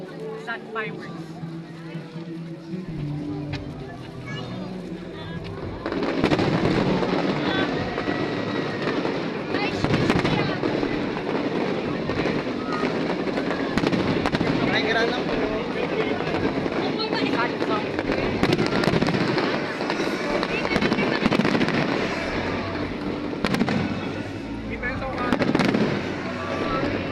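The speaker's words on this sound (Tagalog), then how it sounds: "Sad fireworks." A fireworks display by Team Spain Hermanos Caballer at a Philippine pyrotechnics show sends out dense, continuous crackling and booming bursts. Nearby spectators talk throughout.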